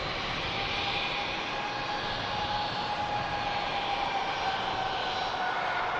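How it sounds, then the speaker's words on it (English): A Turkish Airlines Airbus A321 with IAE engines at Manchester Airport gives a steady, close jet engine roar with a faint whining tone riding on top, continuous throughout with no speech. "Here's the Turkish Airlines A321 in the Star Alliance scheme."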